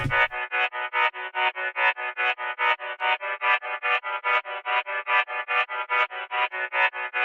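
A reversed, EQ'd koto melody for a dark UK drill beat: evenly repeated plucked notes, thin and mid-ranged with lows and highs cut away, each note swelling in rather than striking, steady and alone.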